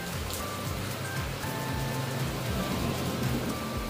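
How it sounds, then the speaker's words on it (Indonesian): Steady, gentle rain patters softly and continuously, a fine even hiss of drizzle with no voices and nothing else standing out. "diiringi dengan suara hujan rintik-rintik"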